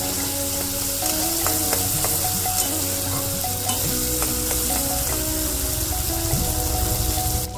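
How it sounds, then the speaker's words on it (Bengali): Spice masala for an Afghani-style egg curry sautés in a pan with a loud, constant sizzle and crackle, broken by small scraping taps of a spatula stirring it, no talk. "হালকা যে কষিয়ে নেবো ভালো করে"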